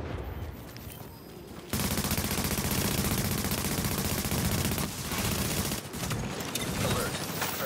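Gunfire in the video game Tomato Team: Rogue Chronicles, a quiet lull, then a loud, sustained barrage of rapid shots that rattles on continuously with brief dips, with no voices.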